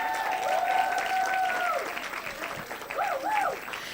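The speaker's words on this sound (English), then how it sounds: "A round of applause for each and everyone who's received something tonight." Audience applause at a Kenyan awards ceremony for the Nutrient Profile Model launch, steady crowd clapping through the whole stretch with whistles or cheering tones rising over it near and far.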